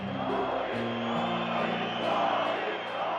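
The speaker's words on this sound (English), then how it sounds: "The crowd began to chant the name of the Soviet leader." A large crowd of protesters outside the Palace of the Republic in 1989 roars and chants together in a dense, sustained wall of voices, loud and continuous.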